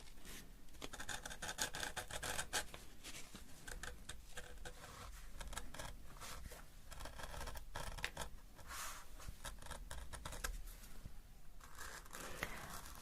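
A craft knife slices through paper in a quiet, close series of dry scratching strokes and soft rasps, continuous and delicate during letter-folding craft work.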